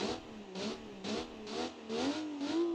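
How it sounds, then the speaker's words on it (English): An inline-six turbocharged car engine in the video game Automation/BeamNG revs repeatedly in short bursts, rising and falling in pitch, with a whooshing turbo hiss between pulls; loud and close. "it's a inline 6 turbo. I love the sound of it"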